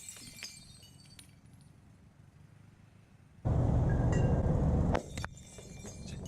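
Glass and porcelain items smashed at close range, a sudden loud crash with a long roar of breaking debris lasting over a second, followed by scattered tinkling fragments.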